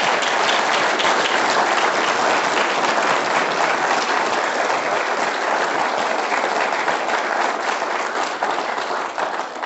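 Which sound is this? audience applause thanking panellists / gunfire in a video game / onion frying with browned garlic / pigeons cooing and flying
audience applause thanking panellists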